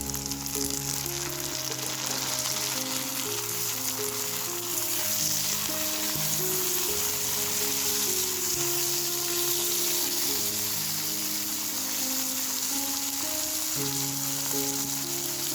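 Chopped tomato with spices fries in a pan for a fish fry, a loud, steady crackling sizzle that runs unbroken for the whole stretch, close up and with no voices.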